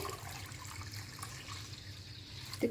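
Water, about 1.5 litres, poured into a pot for Punjabi kadhi pakora, a soft, steady splashing stream heard up close at low volume, with no talk.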